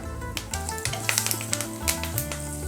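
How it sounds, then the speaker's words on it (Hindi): White sesame seeds and curry leaves hit hot tadka oil for Gujarati muthia, giving a loud, close, crackling sizzle with sharp pops and spatters throughout and no voices. "इसी के साथ डाल रही हूँ मैं कड़ी पत्ता"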